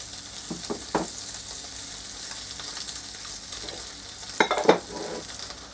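Buttered sandwich toasting in a sandwich maker, a soft continuous sizzle with a few louder handling knocks and scrapes near the start and again later, no talking.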